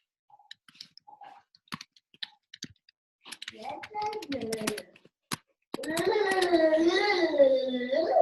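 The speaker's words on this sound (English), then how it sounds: "I'm going to type in the little chat." Light clicks of a computer keyboard during a Zoom training session, a few scattered taps and short bursts of typing, partly overlapped by voices talking nearby.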